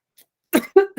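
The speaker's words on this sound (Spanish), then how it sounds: "O me voy a estar tosiendo todo el tiempo" A man giving a lecture coughs three times in quick succession. The harsh, close bursts come after a moment of silence in an indoor classroom setting.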